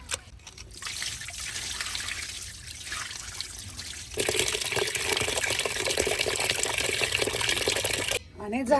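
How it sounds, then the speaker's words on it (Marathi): Water sloshes and trickles as wheat grains are stirred and rinsed, a busy wet splashing that grows louder midway, then briefly drops away. "गहू चांगले पाण्याचं ढवळून चांगलं स्वच्छ धुवून घ्यायचं"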